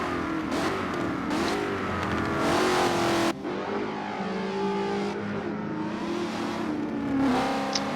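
Race cars roar around the Mugello circuit in Forza Motorsport 7, with a Ford SVT Cobra, a Lotus and a Mercedes among the field; engines rise and fall through gear changes in a continuous, loud, close pack with no voices.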